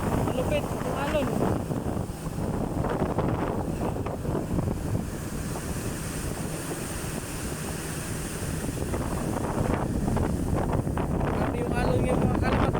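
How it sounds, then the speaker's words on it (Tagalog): Powerful surf on the Indian Ocean rolls in with a continuous loud wash and rumble, wind noise mixed in, while someone talks over it throughout. "malupit ang alon"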